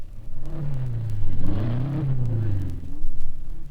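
A deep racing sports car engine rumbles close by at Sebring in 1956, its pitch swelling and dipping as it is revved up and eased back several times while mechanics adjust the carburetion.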